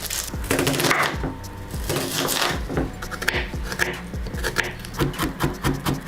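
Onions and garlic are chopped on a wooden board with quick, uneven knife taps, close and clear, under a faint hum of kitchen background noise.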